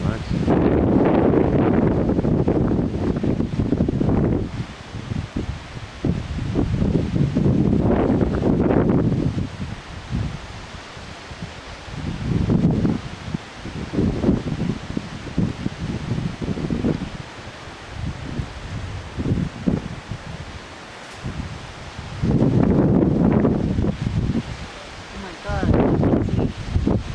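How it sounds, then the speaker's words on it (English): Strong wind gusts through trees in a Costa Rican forest, coming in loud surging bursts of rushing and rustling with quieter lulls between them, and heavy buffeting on the microphone. "It's very windy, so sorry the camera's moving around so much."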